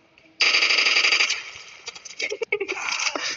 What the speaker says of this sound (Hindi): कौन सा गन है ये? अच्छा उजी सरप्राइज है।